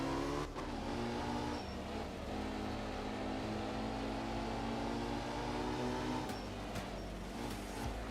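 A VQ V6 engine in the rally game Art of Rally holds a steady, droning rev throughout, a buzzy sustained tone that shifts slightly in pitch, with brief sharp clicks near the start and toward the end.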